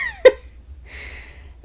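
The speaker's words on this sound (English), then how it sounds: "Whatever, you're gonna hear birds." Birds outside a window give a quick descending whistle and then a short buzzy chirp, faint and separated by quiet room tone.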